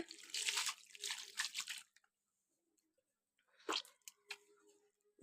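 Plain flour dough is worked by hand with water, making short squishy, sticky bursts up close, then a pause before a few more wet squelches.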